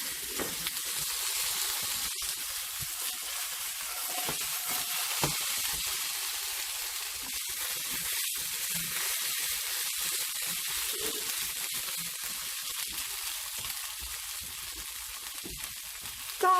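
Beef meatballs and golden potatoes fry in a pan with a steady, close sizzle and crackle, with occasional stirring scrapes and no talking.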